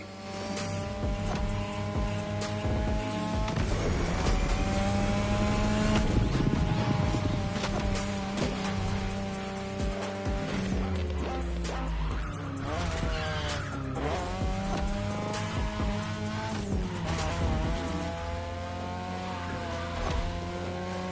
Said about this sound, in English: Your ride is a 3rd Gen 2002 Mazda RX-7. Lightweight, compact, a sick rotary engine, and one hell of a look.